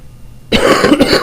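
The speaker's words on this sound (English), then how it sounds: "First cough of the day." A single loud, close cough, abrupt and harsh after a moment of quiet, with a throaty rasp.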